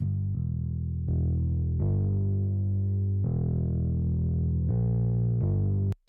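A programmed synth bass sent through an MPX effects processor plays a line of held low notes, a little thicker and more textured, loud and steady, ending abruptly.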